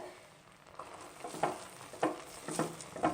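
Jelly being stirred into bubbling sugar syrup for gummy candy, with quiet spaced spoon strokes and soft bubbling over a faint hiss, no voices.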